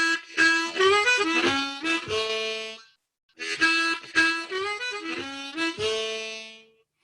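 Harmonica phrases in a timing exercise, drawing hole 2 and resolving onto blow 1 on the next downbeat, played twice with a short pause between, close and clear with no talking.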